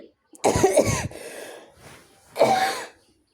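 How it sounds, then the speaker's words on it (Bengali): A woman coughs up close in two bursts, a harsh double cough followed after a short pause by another single cough, with a faint breath between. "কাশি আসছে"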